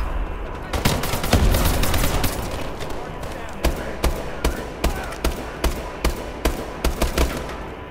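Repeated gunfire from the Unending gun in Call of Duty: Advanced Warfare, a dense burst of shots at first, then a steady run of sharp, evenly spaced single shots, loud and close.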